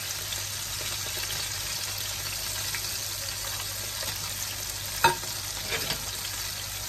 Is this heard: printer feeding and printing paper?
no